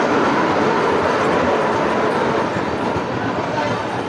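The Howrah–Raxaul Mithila Express pulls into platform 2 at a station, a loud, continuous rumble of wheels and carriages rolling close by.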